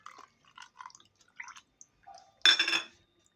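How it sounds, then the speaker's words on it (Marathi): Water poured from a bowl into beetroot dosa batter of semolina and curd, a few soft drips and trickles followed by a short, louder splashy pour close by. "आता ह्याच्यानेच 1 वाटी मी पाणी घालते"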